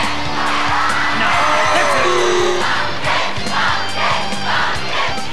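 Loud, dense crowd cheering and yelling at a televised team competition, a sustained roar with rising whoops and shouts surging behind a sheep shearer competitor as he goes.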